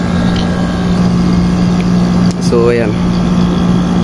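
A repaired window-type air conditioner running with its fan motor and compressor on, a loud, steady mechanical hum and drone throughout, with someone briefly speaking over it.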